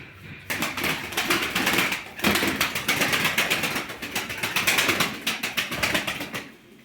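A female Arab pigeon coos in a loft, soft repeated throaty pulses in a steady rhythm close by, with light rustling and wing movement around it.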